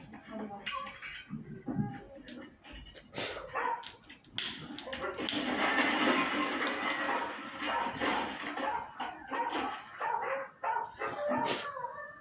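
A dog barks in a few short bursts amid a busy, dramatic scene, with voices and other movement sounds close by.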